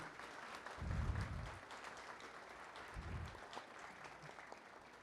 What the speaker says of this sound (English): Go ahead and applause.